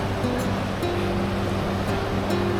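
The Falls of Dochart in the Scottish Highlands pour in a loud, steady roar of rushing water that holds constant throughout, with no voices.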